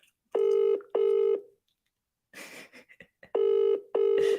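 A phone dials out, two long electronic tones followed by a burst of noisy shuffling, then two more matching tones, loud and close with no talking.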